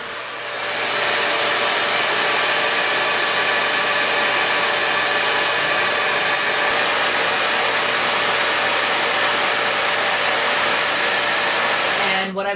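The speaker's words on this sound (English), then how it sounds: "then just blow drying my hair on warm heat but high speed" A hair dryer on warm heat and high speed blow-drying 4C hair, a loud steady whoosh running without a break for about eleven seconds before it cuts off abruptly at the end.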